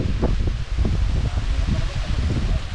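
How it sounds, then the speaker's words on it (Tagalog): Strong monsoon wind roars and buffets the microphone with constant rustling, loud and unbroken, with faint voices buried underneath, at a corn field. "lakas ng hangin na oh"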